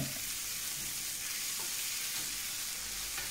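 Sweet potato leaves with chana dal stir-frying in a restaurant frying pan, a steady close sizzle with soft stirring scrapes running throughout.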